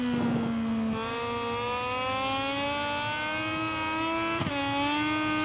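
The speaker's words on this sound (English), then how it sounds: "we're just gonna keep feathering the throttle" A Moto2 racing motorcycle engine in the GP23 racing game revs high and steady, its pitch climbing gradually with a brief throttle dip and recovery, loud and close with no talking.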